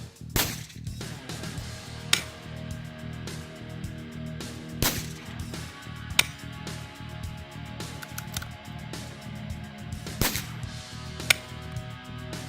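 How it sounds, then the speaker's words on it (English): A Savage 17 rifle fires during outdoor target shooting. Sharp, crisp cracks repeat at uneven intervals of roughly one to three seconds over a steady low background rumble. "So yeah, we're gonna do a little bit of shooting today"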